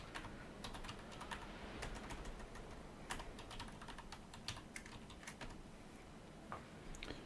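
Quick, uneven clatter of keys on a computer keyboard, close and fairly quiet, tapping steadily with short pauses and no talking.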